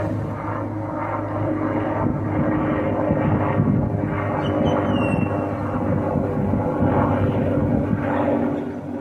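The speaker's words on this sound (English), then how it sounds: "Helicopter going through." A loud, steady engine roar drones overhead throughout, a continuous rumbling of a helicopter passing close by.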